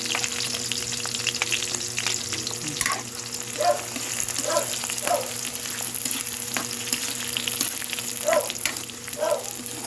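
Garlic and onion frying in a pan for a Filipino shrimp paste dish, a close, steady crackling sizzle with occasional stirring knocks and soft scrapes throughout.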